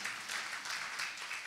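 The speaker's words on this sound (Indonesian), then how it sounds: "Yang setuju beri tepuk tangan buat Tuhan kita." A church congregation applauds during a sermon with a steady, fairly quiet patter of many hands clapping at once, an even texture that continues throughout with no speech on top.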